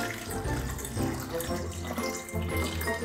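Hydrogen peroxide poured from a measuring cup into a container in a home kitchen, a continuous splashing liquid stream with faint background voices.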